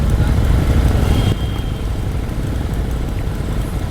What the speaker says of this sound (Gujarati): હાર્લીનું જે રોર છે એ સંભળાતું હશે